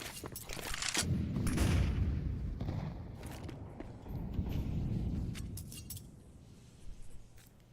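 Rapid gunfire and bursts from a Counter-Strike pro league match, sharp clustered shots at the start and again later over a low rumbling bed, with brief clicks scattered between.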